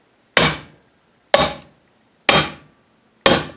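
A greased swing bushing for a Ford backhoe is hammered into its hole with four sharp, evenly spaced metallic knocks, each ringing out briefly before silence.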